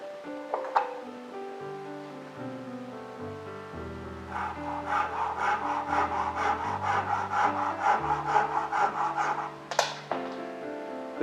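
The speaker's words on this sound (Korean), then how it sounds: "조심해서 톱질을 하시면 됩니다." Rhythmic back-and-forth hand saw strokes cutting wood, about a dozen quick rasping passes in the middle, over soft background music.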